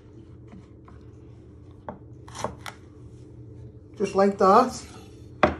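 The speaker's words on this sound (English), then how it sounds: "You're first going to chop your ends off." A knife chops the ends off fresh chillies on a cutting board, giving a few separate crisp cuts. They sound close by, and someone talks between and over the cuts.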